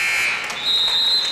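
Game-ending buzzer at a high school basketball game between Red Oak and Atlantic, a sustained electronic tone running through the whole span over crowd noise.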